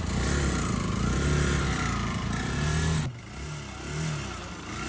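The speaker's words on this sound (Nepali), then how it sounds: "गुरुङको बाइकले धेरै धोका दिएछ है।" A motorcycle engine hums and revs on a slippery mountain trail, rising and falling in pitch, then drops to a lower, softer idle near the end.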